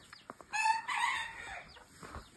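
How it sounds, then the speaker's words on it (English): A small rooster crows twice in quick succession on a farm, a clear nearby call standing alone against quiet outdoor background. "Little rooster."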